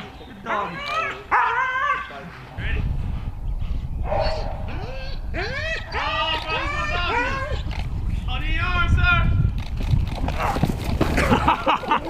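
A military working dog barks and yips repeatedly in close, loud bursts during a capabilities demonstration, with people talking and calling out over and between the barks.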